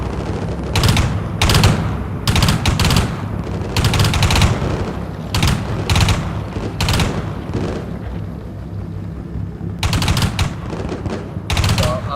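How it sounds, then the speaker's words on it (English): Autocannon and mortar fire from the Combat Mission Shock Force video game, with high-explosive rounds fired into buildings, sounds as loud, clustered bursts of rapid shots with pauses between volleys, over a low rumbling background. "I'm literally just shooting HE rounds into every building that's facing me"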